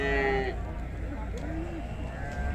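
Lambs bleat at a livestock market in Çubuk, Ankara, with a close, wavering bleat at the start and fainter calls later, heard amid people talking and market bustle.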